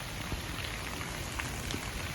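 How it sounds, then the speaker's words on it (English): Steady rain falls on a rainy day outdoors, a dense continuous hiss with scattered droplet taps, constant and fairly loud with no voices. "When I started the run, the rain came, so I came back."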